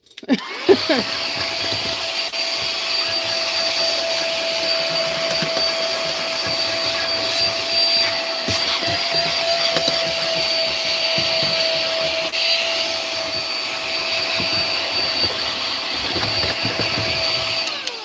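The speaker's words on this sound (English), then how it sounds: "So hold your ears if you don't want to hear this loud vacuum." A loud vacuum cleaner runs steadily with a constant whine and hum, broken by faint rattles as spilled glitter gets sucked up.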